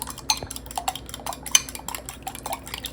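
Three eggs being whisked together in a bowl for a Southern caramel cake batter, a steady run of light clinking and tapping strokes close by, fairly quiet and continuous with no talk.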